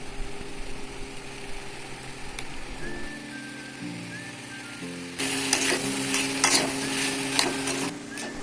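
Chicken keema with boiled potatoes and peas is stirred in a pan, a low sizzle under steady scraping and clinking that grows busier and louder toward the end.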